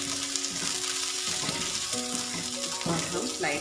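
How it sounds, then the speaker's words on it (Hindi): Medium onions frying in hot oil, heading toward light golden for beef Mughlai: a steady, close hiss of sizzling that runs the whole time, with soft musical tones underneath. "इसको इसमें शामिल करेंगे और इसको लाइट गोल्डन होने तक इसको ऑयल में हम फ्राई कर लेंगे"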